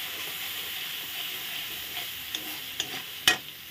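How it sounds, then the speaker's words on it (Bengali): Spice paste with salt and turmeric fries in a pan as a soft, steady sizzle, and a few spatula taps and scrapes build toward a sharper clink at the end. "দিয়ে ভালো করে নেড়ে নিলাম। মশলাটা সুন্দর কষানো হয়ে গেল"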